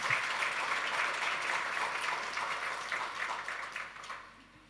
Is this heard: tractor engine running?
no